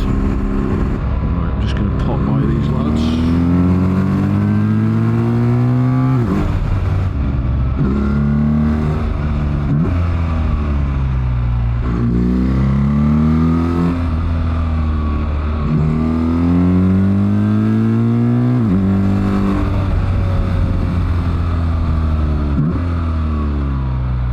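A BMW R1300GS motorcycle cruising on a motorway fitted with an upgraded DNA air filter, a loud continuous engine drone rising and falling in pitch with throttle and gear changes, with wind rush and no talk.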